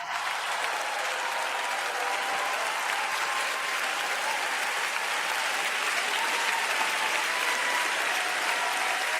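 Sustained, thick applause fills a church auditorium, a large crowd clapping steadily and loudly without letup, with faint cheering woven into the wash of hands.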